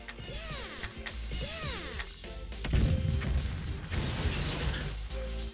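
Heavy booming impact and mechanical clanking from a tank firing in Jet Set Radio, arriving midway after chirpy electronic game sounds, loud and rumbling to the end.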